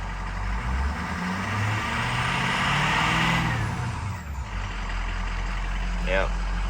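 A rebuilt 6.0 diesel engine in a truck with a new transmission runs steadily, with a low rumble and a brief rise in revs, while someone talks over it.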